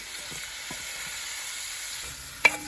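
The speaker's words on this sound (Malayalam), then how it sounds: "ഇനി അത് സബോള വഴറ്റണം" Sliced onion sautés in coconut oil for tomato rice, giving a faint steady sizzle with a few soft stirring taps and one sharp clink near the end.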